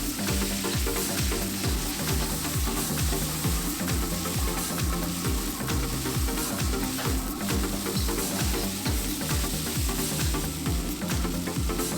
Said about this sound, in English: Fry the onions for about a minute, reduce the heat to medium.